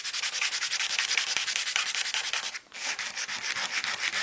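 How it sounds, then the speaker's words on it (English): Razor blade scraping across a layered encaustic wax surface, a steady run of rough, rhythmic close-up strokes with a brief pause partway through. "you scrape the surface of the wax to get a nice smooth"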